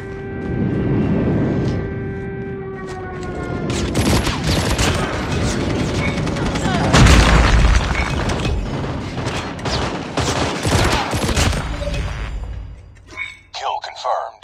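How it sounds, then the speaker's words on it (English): Gunfire and explosions from an airstrike in Call of Duty Mobile multiplayer, rapid bursts and heavy booms building into a loud sustained barrage, with game voice lines spoken over the action before it drops away near the end. "Friendly airstrike incoming."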